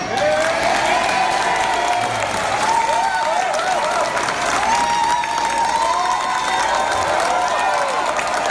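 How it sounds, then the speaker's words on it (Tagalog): A loud crowd at a State of the Nation Address in the Philippines applauds and cheers without a break, with shouting voices riding over dense clapping throughout. "Bakit malakas yung palakpak niyo"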